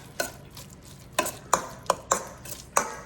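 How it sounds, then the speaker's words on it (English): Crab noodle soup ingredients stirred in a bowl with a utensil, giving sharp clinks and scrapes against the bowl in an irregular rhythm, about seven distinct strokes, close and clear with no talk. "And get it well mixed."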